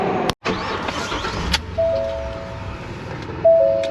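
An RV engine idles with a steady low rumble, cuts out abruptly after a brief sputter, and the noise settles to quieter background hum with a faint electronic tone, nearby and without speech.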